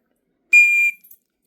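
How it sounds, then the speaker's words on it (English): A whistle built into the end of a fire starter tool with a ferro rod gives one loud, shrill, steady blast of about half a second, then a couple of faint trailing chirps, heard alone. "Then I can imagine that's going to be a pretty loud whistle."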